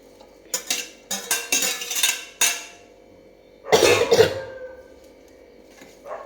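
Cooked jackfruit scraped and tipped from a vessel into a pan of chicken curry, making a series of close metallic clinks and scrapes, then a louder wet clatter of pieces landing, fading to quiet.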